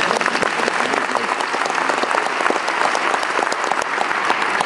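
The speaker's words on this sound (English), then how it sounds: "Yes, you can applaud for that." A concert audience gives loud, sustained applause for the tenors, a dense steady clapping from a large crowd that continues throughout without a break.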